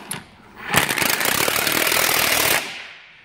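An impact wrench rattles in one loud, rapid burst of about two seconds, tightening a wheel onto a Jeep JK during a Teraflex rear big brake kit install.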